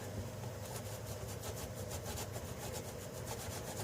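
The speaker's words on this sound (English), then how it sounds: "Now let's just be real selective with the Scotch-Brite pad." A Scotch-Brite pad scrubs black rust stains on vintage wood in a steady, close, continuous rubbing rhythm with quick back-and-forth strokes and no talking.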